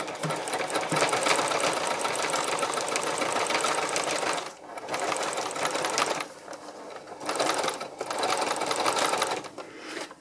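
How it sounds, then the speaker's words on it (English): A sewing machine stitches fabric in close, loud bursts of rapid whirring, running for several seconds, pausing briefly, then starting again twice. "I'll take it over to my sewing machine and we'll just do some very simple stitching to get it held in place"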